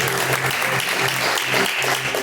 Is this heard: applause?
yes